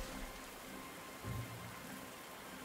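Rain falling in the WWII strategy game Panzer Corps 2, a faint even hiss of steady rainfall with a soft low rumble near the middle and no talk.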